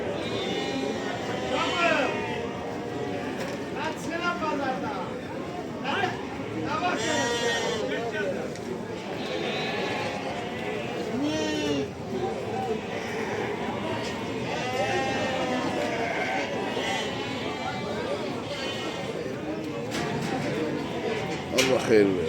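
Sheep bleat repeatedly at a busy livestock market in Barda, the calls rising over a steady crowd murmur with people chatting throughout.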